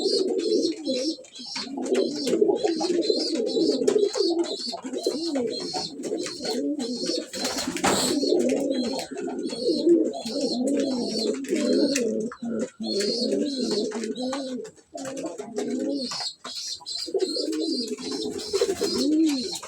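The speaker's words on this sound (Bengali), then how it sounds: "শখের কবুতর এগুলো আমার" Pet pigeons coo in their loft in a steady overlapping chorus of deep, rolling coos, close and fairly loud, with a few soft thumps and short pauses between calls.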